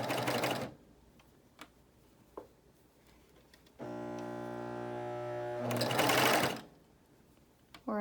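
A BabyLock Euphoria coverstitch machine sews a neckband in short bursts: a brief run at the start, a longer steady mechanical whir in the middle rising toward the end, with quiet pauses and small taps between.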